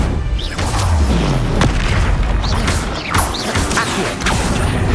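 Loud, dense spell blasts and booming explosions from a wizard duel in the video game Hogwarts Legacy, with repeated crashing impacts and whooshes layered into a continuous roar, no talking.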